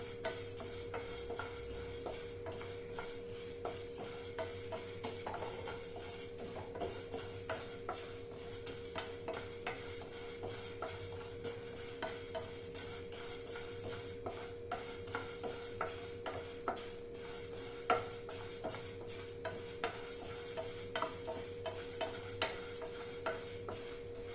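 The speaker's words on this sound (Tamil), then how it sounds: "இப்போ கடலைப்பருப்பு நல்லா வறுபட்டு வச்சு பாருங்கள்." Chana dal roasts in a pan while being stirred, producing faint, regular scrapes and light ticks over a constant low hum for a long stretch.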